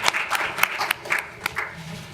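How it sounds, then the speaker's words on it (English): Audience applause for a panel at a pharmacy placement training session, a short burst of scattered hand claps at moderate distance in a room, with faint voices underneath. "Can we just have a clap for our panel?"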